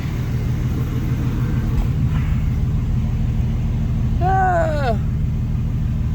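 A neglected Chevy S10 pickup engine idles with a steady, loud low rumble, close and continuous, with a brief higher whine sweeping up and back near the end.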